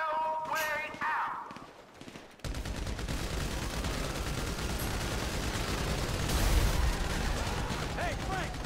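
Sustained rapid gunfire rattles through a GTA 5 shootout, a dense continuous barrage that follows a brief spoken line and runs for several seconds at steady loudness.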